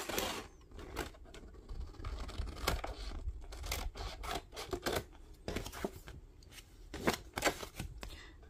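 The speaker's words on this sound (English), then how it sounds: "Just trimming it better so that it fits in there better." Material being trimmed to fit a writing board produces rapid, irregular crinkling, snipping and tearing rustles close up, continuing in uneven bursts throughout.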